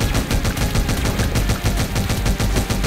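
Rapid automatic rifle fire from the Omega Strike video game, a dense run of evenly spaced shots that keeps a steady rhythm, loud and continuous, with no talking over it.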